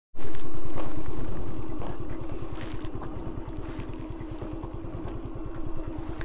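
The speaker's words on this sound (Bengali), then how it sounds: "আমরা যাবো আমাদের বাইকগুলো যেগুলো আসছে, একটা এক্সব্লেড, একটা স্কুটি, একটা এফজেড, আর একটা হচ্ছে হর্নেট।" A group of motorcycles, among them a Yamaha FZ, a Honda Hornet, an Xblade and a small scooter, rides a road on the way from Thanchi to Dhaka. Their engines drone loudly and steadily with a fast, throbbing pulse and no talk.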